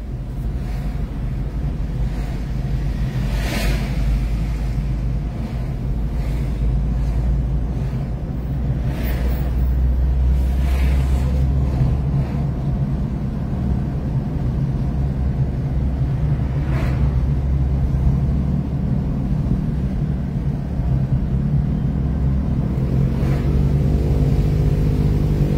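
Steady loud rumble of a car driving along the road between Mtsamboro and Mamoudzou, with continuous engine and tyre noise, wind buffeting and occasional brief knocks, no voices.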